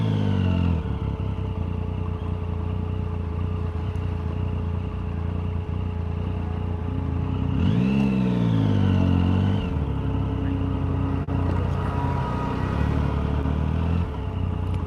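A motorcycle rides through narrow streets in Otsuka, Tokyo, its engine rumbling steadily up close, with a rising rev and swelling roar around the middle before settling back to a low idle-like drone.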